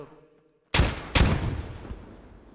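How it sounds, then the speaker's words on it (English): A frag grenade blows up on the second floor in a tactical shooter, two sharp close blasts in quick succession with a rumbling tail. "Frag on second floor."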